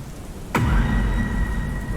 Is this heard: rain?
yes